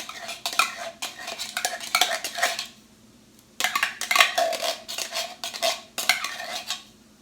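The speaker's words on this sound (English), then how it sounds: "this can of cream of mushroom soup, not diluted, just like it is. And then we're going to mix all this up." Thick chicken casserole mixture with undiluted canned cream of mushroom soup being stirred in a bowl, a spoon scraping and clinking in bursts of wet mixing with a brief pause midway, close and alone.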